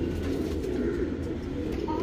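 Show-quality pigeon cooing close by: a low, throaty burbling coo that runs continuously for about two seconds over a soft background hum.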